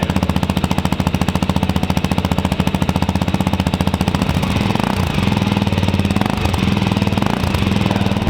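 Suzuki DRZ motorcycle engine with a new slip-on exhaust, idling and revving with a rapid, steady thumping pulse, deep and loud close up, shifting slightly in pitch partway through.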